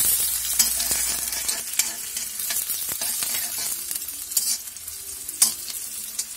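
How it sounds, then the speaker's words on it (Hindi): Green chillies sizzle steadily in hot oil in a pan for chow mein, close and continuous, with a spatula stirring and scraping now and then. "अब इसको थोड़ा सा फ्राई होने देंगे"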